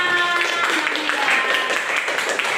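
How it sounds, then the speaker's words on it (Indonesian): An audience claps steadily for a group recognized at an Indonesian school presentation event. The applause is dense and continuous, filling the moment on its own without talk. "Kasih tepuk tangan"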